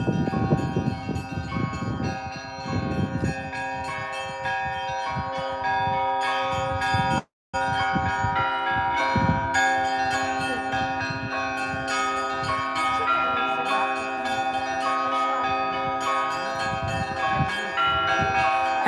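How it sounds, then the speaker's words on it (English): Church bells rung by hand in a Russian town, several bells of different pitches sounding together in a loud ringing peal that carries on throughout, with one brief break midway. "And the bells are being played by an actual person up there, by the way."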